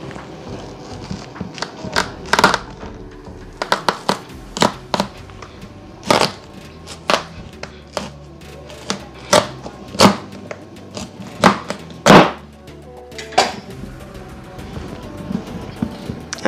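A knife chops and cracks through a whole spaghetti squash on a board in a home kitchen, with repeated sharp crunching cuts in an uneven rhythm and close, loud strikes standing out over low background noise.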